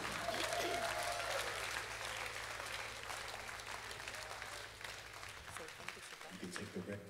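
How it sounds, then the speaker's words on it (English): A live concert audience claps and cheers for a guest singer with a band, a continuous, even roar of applause throughout, faint and fading slightly near the end, with some voices mixed in. "Let's applause to Mr."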